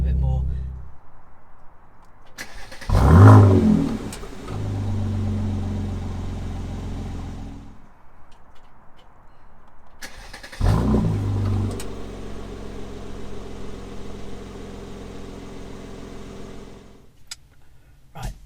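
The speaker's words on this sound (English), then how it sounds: "it'll blip the throttle and it kind of bounces up a bit more" A Mercedes-AMG engine in Sport Plus mode starts with a loud throttle blip that bounces the revs up, then settles into a steady idle rumble. After a quiet gap it starts and blips again, and it cuts off near the end.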